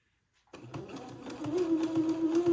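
Sewing machine stitching lace pieces together for a gown, starting abruptly after a short silence into a rapid, steady mechanical whir with a rising motor hum, close and fairly loud.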